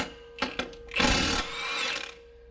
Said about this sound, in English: put our wrench on here and go ahead and zip off our first nut